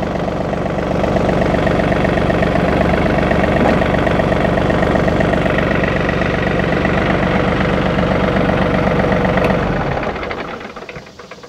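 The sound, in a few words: John Deere 3043D tractor engine running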